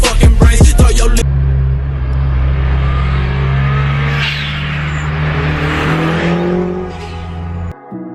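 Turbocharged 1990 Mazda Miata drift car engine droning loud and close, holding a steady revving tone that rises and sweeps up in pitch toward the end, after an abrupt burst of other sound at the start.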